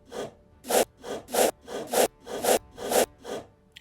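A custom scroll menu sound effect for Emulation Station, heard as eight loud, evenly spaced rasping swishes like quick strokes of a saw or file, repeating steadily alone with no talk.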